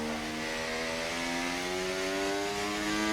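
High-revving Mercedes racing car engine screaming in a racing video game, a steady loud whine that climbs slowly in pitch, heard alone without talk.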